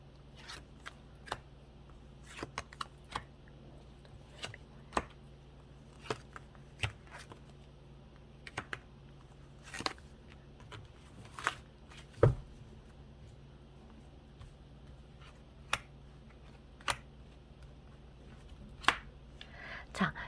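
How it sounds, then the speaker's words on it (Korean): Tarot cards being shuffled and handled for additional draws, heard as sparse sharp snaps and flicks scattered across a quiet room, close and fairly soft, with longer pauses between clusters. "추가 카드 뽑아 볼게요."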